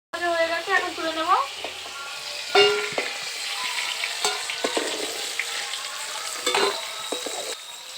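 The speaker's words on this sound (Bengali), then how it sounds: "কাঁকড়াগুলোকে একটু ভালো করে ভেজে নিতে হবে" Crabs frying in hot oil in a pan, a bright crackling sizzle with scattered spoon scrapes and clatter, close by, while a tonal whine sweeps up and down briefly near the start.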